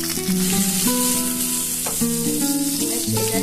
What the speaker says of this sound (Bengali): ভাজাবো